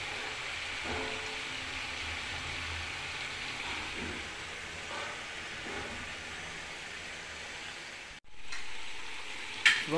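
Cholistani chicken karahi with onion, garlic and whole spices frying in oil, a low, even sizzle that holds steady and close for the whole stretch with a brief dip near the end.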